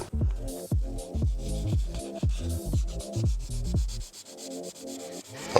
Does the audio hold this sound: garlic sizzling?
no